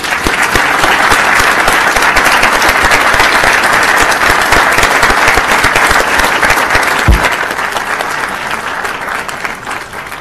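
Loud, sustained applause from a meeting-hall audience at a Board of Education meeting, greeting students as they come up; dense clapping holds steady for about ten seconds and eases slightly toward the end.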